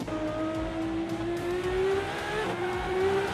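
Ferrari 599 and Lamborghini Sian engines, the Sian with almost 800 horsepower, racing in a video game league race: a steady, continuous engine drone that slowly climbs in pitch, with no break throughout.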